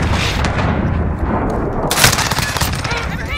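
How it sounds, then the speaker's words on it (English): Gunfire hits an aircraft in the video game Modern Warfare, sounding as loud, dense bursts and booms with a sharp surge near the end, under faint radio chatter. "Striker, we're taking some fire."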